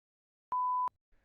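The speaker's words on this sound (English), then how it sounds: "an audible beep will be heard" A single clean electronic tone beeps once for about a third of a second after a spoken survey question, then quiet follows.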